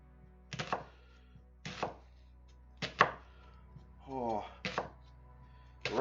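A knife chops white onions on a cutting board while a chicken pasta bake is prepared: several sharp, close chopping bursts in irregular clusters, with a brief voice-like sweep in between.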